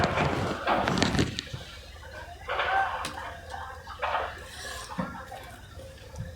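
A spoon stirs vegetable dal in a pot, giving intermittent clattering scrapes and knocks against the metal in short bursts, separated by quieter gaps.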